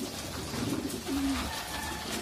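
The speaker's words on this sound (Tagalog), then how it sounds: "So ito sila mga kalapatids lahat." Racing pigeons coo softly in their loft, with two short low coos and a murmuring flock over a steady background hiss.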